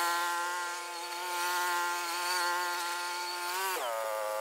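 A riding lawn mower drives around a driveway and parking lot, its small engine giving a steady, whiny, buzzing drone that holds close and even before its pitch drops sharply near the end.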